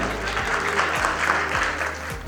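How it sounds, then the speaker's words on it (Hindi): An audience gives a round of applause for Rahul Dev at an SK Finance health event in Jaipur, with sustained, even clapping over a low recurring background tone. "राहुल देव सर के लिए जोरदार तालियां हो जाए यार"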